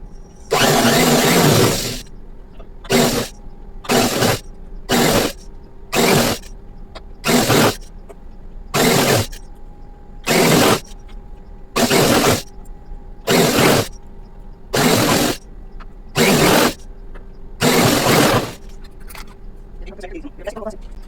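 An electric sewing machine stitches folded fabric with one-inch elastic in about a dozen short, loud bursts of whirring, each a second or so long, separated by pauses with a voice speaking in between.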